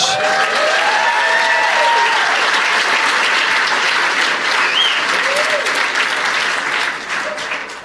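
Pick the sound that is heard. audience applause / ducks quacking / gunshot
audience applause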